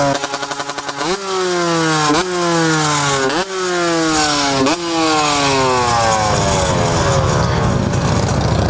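A Husqvarna 125 CR motard two-stroke motorcycle revs hard and close, climbing through several sharp rising sweeps with brief drops between shifts, then holding a loud high-pitched scream.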